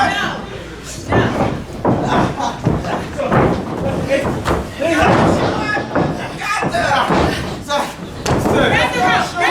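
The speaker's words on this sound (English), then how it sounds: "He just dragged him in and slammed him down." A wrestler is slammed onto the ring mat at an indie wrestling show, heavy thuds and thumps breaking through continuous commentary and crowd noise.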